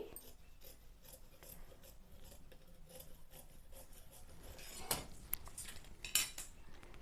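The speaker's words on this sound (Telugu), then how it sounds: "ఎడ్జెస్ కరెక్ట్గా కట్ చేసుకోవాలి" Scissors cutting along the edges of fabric for sewing, a soft steady rustle and scrape with a few sharper metallic snips and clicks toward the end, close by with no talking.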